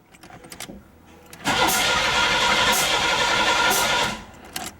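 An old Oldsmobile with backwards timing cranking hard after a fuel pump replacement, a loud sustained churning for a few seconds that cuts off abruptly, with a few faint clicks before and after.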